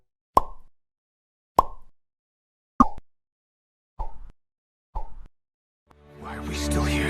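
Homemade sound effects for a video game made in seven days: five short, evenly spaced plops ring out alone, followed by a louder, noisy swelling sound that builds at the end.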